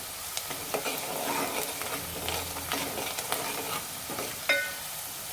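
Turmeric fries in hot oil for a tempering while being stirred, producing a steady sizzle broken by frequent scraping strokes and a few sharp clinks of the spoon against the pan.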